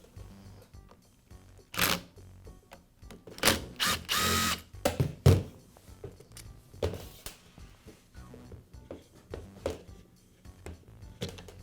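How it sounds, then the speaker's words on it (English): A power driver backs a screw out of a Milwaukee grease gun housing in short whirring bursts, mixed with clicks and handling of plastic parts at close range. "I'll need to remove one more screw."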